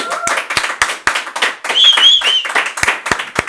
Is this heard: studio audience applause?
yes